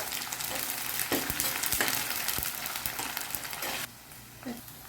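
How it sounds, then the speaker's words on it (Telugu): Onions, green chilies, ginger and garlic fry in a pan with a busy, crackling sizzle and a few stirring knocks. The sizzle cuts off abruptly near the end, leaving a quieter room. "ఉల్లిపాయలు, పచ్చిమిరపకాయలు, అల్లం వెల్లిపాయ అన్నీ వేగినాయి."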